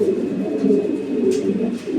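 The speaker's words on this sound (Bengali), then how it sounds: "এখানে একটা সিঙ্গেল কবুতর আছে" A single pigeon coos close by in a soft, continuous low murmur, with no other voices.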